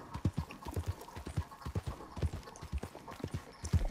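Rhythmic hoofbeats of a horse galloping in the video game Red Dead Redemption 2, steady clip-clop thuds close and fairly loud with no talk over them.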